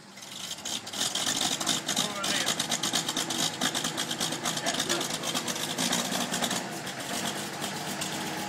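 A vehicle engine starts for the first time after sitting through winter, then settles into a steady, close rumbling idle with a fast regular ticking pulse.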